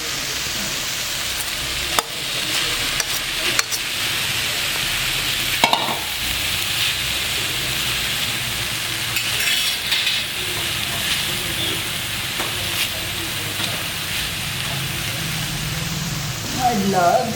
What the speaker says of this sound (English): And keep stirring it and simmer it